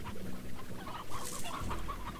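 A chicken in the ranching game Slime Rancher clucks softly in a few short, rapid bursts over a quiet game background.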